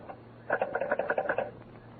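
A telephone rings as a radio comedy sound effect, a rapid burst of buzzy trilling pulses lasting about a second, moderately loud against a quiet background with no talk.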